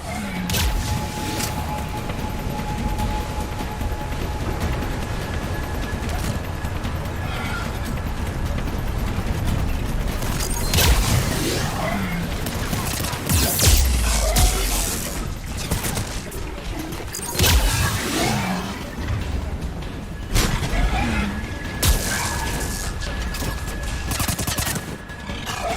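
Sustained gunfire in a Mass Effect 3 firefight, dense and loud throughout, with heavier bursts and booming impacts in the second half over a steady combat din.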